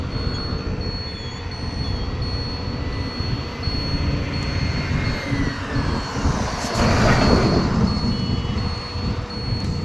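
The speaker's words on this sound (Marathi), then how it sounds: "ट्रॅव्हल्स येते आहे ट्रॅव्हल्स येते" A travel bus passes on a road beside a learner's car, heard as a steady low rumble of traffic that swells louder and closer for a couple of seconds before easing off.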